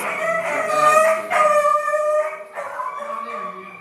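A stray dog howls and barks in long, wavering cries that rise and fall over about four seconds, close and fairly loud, with faint background voices during a church service.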